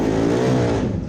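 A formula offroad race car on a hill climb in Egilsstadir, Iceland, holds a loud, close, sustained high engine rev with a rich, steady harmonic whine and no pauses.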